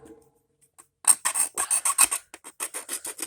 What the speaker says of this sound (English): then you can round off the edges with your file